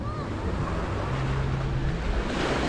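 Ocean surf rolls steadily onto Playa Tortugas beach in Cancun, a continuous loud wash of waves with wind buffeting the microphone and no break in the roar.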